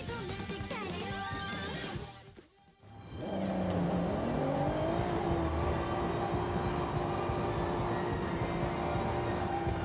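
A car engine in the Forza racing game revs hard, dips briefly as if shifting or lifting off, then climbs back into a sustained, rising drone while lapping the track.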